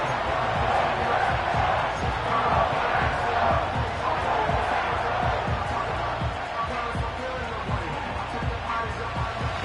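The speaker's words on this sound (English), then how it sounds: "This crowd into it now as we get to third down." A packed American football stadium crowd roars steadily before a third down, a dense, sustained wall of cheering that stays loud throughout while a commentator keeps talking over it.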